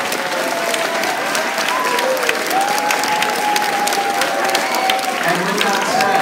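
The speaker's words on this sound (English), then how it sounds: "Please give a big round of applause to Ms. Johnson." Loud audience applause at a grade 3 and 4 school concert, parents clapping densely and continuously, with faint voices and a few cheers mixed into the crowd.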